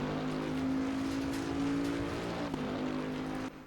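A 2020 Bentley GT3 race car engine in Assetto Corsa Competizione at Mount Panorama drones steadily at a held pitch, with a brief dip and recovery near the end. The sound is loud and continuous, with no talk over it.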